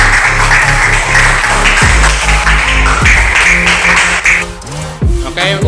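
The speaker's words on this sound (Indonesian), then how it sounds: "tepuk tangan untuk kita semua" Students and staff at a school project event applaud loudly and steadily, with music playing underneath the clapping.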